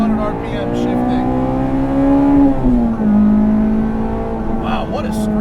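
A high-compression 1998 Acura Integra GSR all-motor engine screams up through the gears to 8,500 RPM, loud and close, each shift marked by a quick drop in pitch before climbing again, with faint talk at the end.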